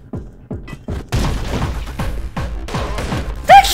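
Gunshots from the video game Anger Foot crack out in a quick series of punchy booms, one after another, close and loud, with a brief chirping effect near the end.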